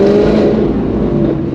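Straight-piped Ford Mustang S550 V8 roaring under acceleration during a night drive, a loud raw exhaust snarl whose pitch slides downward as the revs fall over a second and a half.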